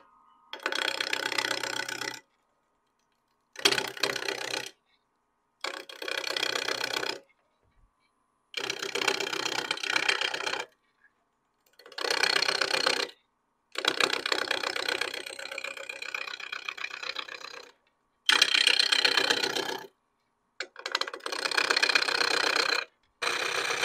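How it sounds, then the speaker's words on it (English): Wood lathe turning a split-turning blank while cutting beads, a steady whirring buzz in bursts of about two to four seconds, stopping and starting repeatedly with short silences between, fairly close and alone. "let me just stop the lathe and see how I'm doing"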